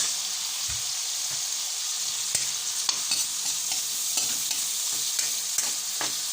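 Tomatoes frying for Kapampangan lagat, or ginisang ampalaya, a bright, loud, continuous sizzle with scattered clicks and stirring knocks throughout.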